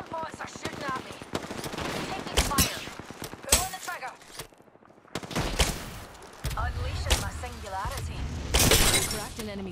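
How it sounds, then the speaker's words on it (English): Gunfire rattles in rapid bursts through an Apex Legends fight, broken by sharp glassy cracks as an enemy shield shatters, with a brief near-silent gap midway and in-game voices speaking over the action. "Cracked an enemy shield."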